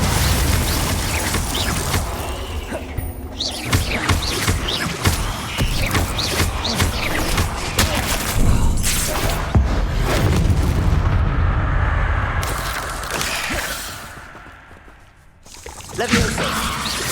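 Booming spell blasts and magical combat effects from the video game Hogwarts Legacy, a Confringo fire spell among them, roll on loudly and densely throughout, with a character's voice shouting over the din and a brief lull near the end.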